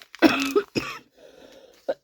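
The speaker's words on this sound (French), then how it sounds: "pardon, je tousse" A few sharp coughs close by, a short burst followed by a second cough and a faint final one after a quiet pause.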